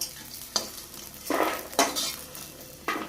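Lentil badi fry in oil in a pan and get turned over, with a steady soft sizzle broken by scraping strokes and metallic clicks of a utensil against the pan.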